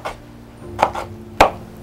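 A knife chopping dried radish finely on a cutting board, a few sharp separate knocks in quick succession, close and clear.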